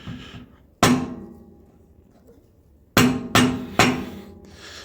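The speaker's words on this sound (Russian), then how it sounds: "И вот без всяких там кувалд резиновым молоточком начало и заходить." Rubber mallet tapping a CV joint onto the axle shaft of a Mitsubishi Outlander XL: four sharp knocks, one alone then three in quick succession, close and ringing briefly against quiet.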